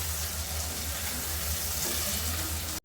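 Dried mola fish sautéing in spiced oil in a pan gives a steady, close, even sizzle with no breaks, cut off abruptly at the very end.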